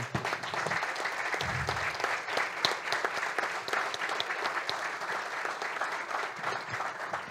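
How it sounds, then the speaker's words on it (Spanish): Steady, dense applause from an audience honouring institute staff at a political talk during a knowledge expo, filling the room without pause for about seven seconds. "La verdad que se merecen un fuerte aplauso"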